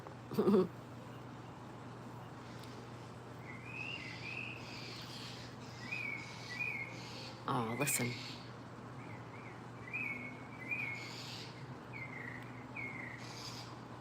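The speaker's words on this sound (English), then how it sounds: "We have a birdie bird." An outdoor bird repeats short chirping calls at a moderate distance, in several brief bursts over a steady hum, while a person talks softly and a sharp knock sounds near the start.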